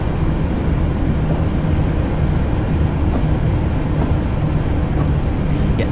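Train running on the Island Line in a train simulator game: a steady, loud engine and rolling drone with a low hum, continuous and even, with no talking.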